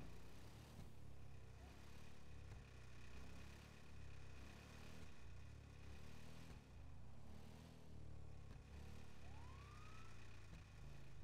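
Police siren in GTA V roleplay, a faint wailing siren rising and falling in a steady repeating cycle over a constant low engine drone, with one short chirp near the end.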